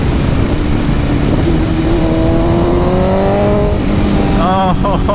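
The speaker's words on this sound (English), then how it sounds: "Downshifts." A BMW S1000RR sport motorcycle fitted with an aftermarket exhaust winds down through a steady engine drone, then falls into a series of quick, sharp downshift blips near the end, loud and close under faint talk.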